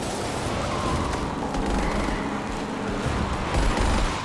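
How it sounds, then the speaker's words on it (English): Gunfire in a rain-soaked scene from The Batman, muffled bursts and booms under a continuous wash of falling rain that stays audible throughout. "Listen to this modified version where the sound of the rain remains audible."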